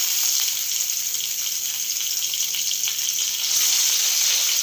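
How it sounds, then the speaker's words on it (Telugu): Chunks of cucumber and tomato fry in a pan with a steady, bright sizzling hiss that holds fairly loud and even throughout, swelling slightly near the end. "టమాటా ముక్కలు దోసకాయ ముక్కలు మధ్య అంతవరకు వేయించుకోవాలి ఫ్రెండ్స్"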